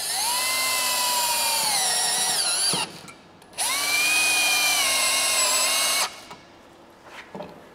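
Power drill driving self-tapping screws into a black aluminum handrail post, two loud sustained whines rising in pitch as each screw bites, separated by a short pause, then quiet handling clicks afterward.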